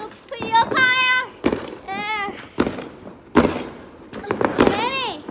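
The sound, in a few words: bonfire night fireworks exploding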